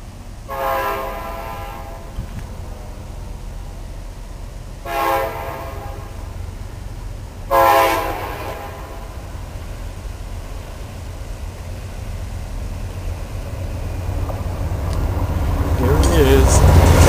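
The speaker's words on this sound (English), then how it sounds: "That's the train." A train approaches near Quebec City, sounding its horn in three separate loud blasts over a low steady rumble that swells toward the end as it draws close.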